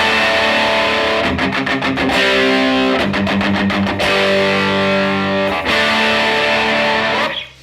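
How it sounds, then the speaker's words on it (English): A loud electric guitar through a Rat distortion pedal plays sustained chords with bursts of fast chugging strums, ringing continuously before cutting off at the end. "we'll hear what it sounds like with just the Rat distortion pedal"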